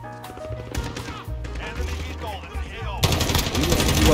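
Rapid bursts of light machine gun fire in a video game, crackling shots and clattering effects that grow louder and denser in the final second, with a voice speaking in between.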